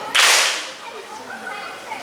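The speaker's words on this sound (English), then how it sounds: "Can you please clap 1 whole note?" A single loud unison clap from a beginning school band group marks one whole note, followed by a quiet room with faint murmuring.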